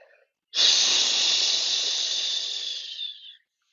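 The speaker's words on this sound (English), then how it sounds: "Every exhale with an SH sound" A single long hissing "shh" exhale during a yoga breathing practice, close and steady, lasting about three seconds before tapering off.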